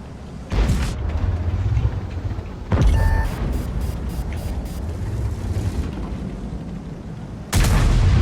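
Heavy tank cannon shots in World of Tanks boom out three times, each a sharp loud blast with a rumbling tail, separated by a few seconds of engine and battle ambience.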